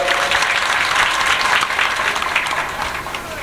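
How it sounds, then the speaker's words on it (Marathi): A crowd at a village election rally applauds candidates in a dense, loud burst of clapping that holds steady for a few seconds before easing slightly. "या तिन्ही उमेदवारांना टाळ्या वाजून आशीर्वाद द्या"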